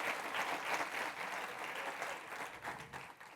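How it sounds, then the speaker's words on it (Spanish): A church congregation applauds during a Spanish-language service, a steady wash of clapping from many hands that holds for several seconds and tapers slightly at the end. "¿Le puedo dar un aplauso al Señor, por favor?"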